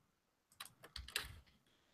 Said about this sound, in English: Greg Dreber just said press caps lock plus, hold on, F, or Windows caps lock plus escape